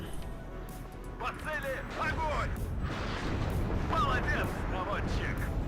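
Artillery rumbles and booms roll through a WARNO battle, a few heavy blasts swelling in the second half, while a person talks over much of it.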